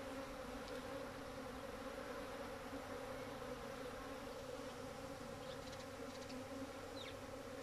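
A dense, steady buzzing of many honey bees close by, continuous and unbroken, with no voices.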